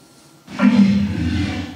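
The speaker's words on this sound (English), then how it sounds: "And this is a walrus." A walrus call used as raw material for film creature sound design, a single loud, deep roaring bellow that rises suddenly and holds steady for over a second, heard alone and close.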